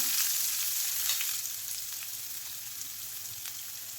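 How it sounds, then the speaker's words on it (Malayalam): A small chopped onion sautés in a pan while aval uppuma is being made, giving a steady, close frying sizzle with light crackling that fades slightly over a few seconds, with no speech. "ഇട്ട് കൊടുത്ത് ഒന്ന് സോട്ടായി കൊടുക്കാം"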